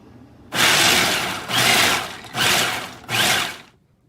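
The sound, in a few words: food processor blending raw pecans and medjool dates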